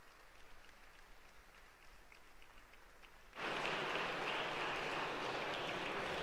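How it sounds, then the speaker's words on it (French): An audience at the official opening of a national education gathering bursts into loud, sustained applause after a quiet murmuring stretch, the clapping holding thick and even to the end. "merci d'accueillir sous un tonnerre d'applaudissements Delphine"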